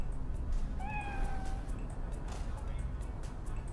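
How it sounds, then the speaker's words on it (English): A house cat gives a single drawn-out meow, close and fairly clear over low room hum and background Cyberpunk 2077 game audio. "Keep thinking that's my cat yowling."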